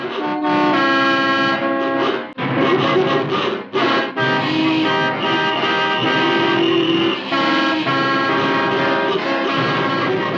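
Car horns honk loudly and almost without pause in a traffic jam, overlapping long blasts and short toots layered over engine rumble, with no talking.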